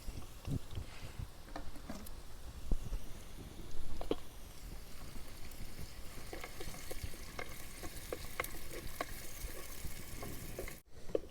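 Crabs and crushed onion paste frying in a pan for crab curry, a dense continuous sizzle with occasional stirring scrapes and light clicks, fairly close and steady with no talk.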